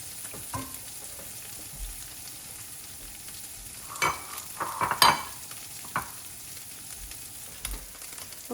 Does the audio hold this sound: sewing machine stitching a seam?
no